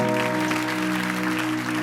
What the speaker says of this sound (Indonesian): Kasih tepuk tangan untuk mereka dong